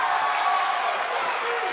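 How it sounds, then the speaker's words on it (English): A crowd at a varsity high school basketball game roars, a loud sustained cheer that fills the gym at a fairly even level from start to finish. "Crowd's excited."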